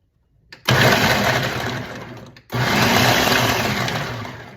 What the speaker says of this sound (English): we're gonna cut these into tiny little pieces chop them in our food processor. Our top is on, we're gonna give them a pulse and get them chopped up